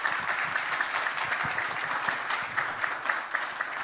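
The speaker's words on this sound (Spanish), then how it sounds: "brindémosle un fuerte aplauso" Audience applause closing a talk on AI and digital sovereignty for industry at a GPI Talks event, a dense, steady wash of many clapping hands sustained evenly for several seconds with no voices.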